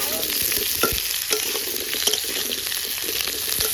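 Dry red chillies and cumin sizzling in hot oil as a tempering for a fish curry, a loud continuous crackle and hiss with small pops and stirring scrapes, close up, no speech.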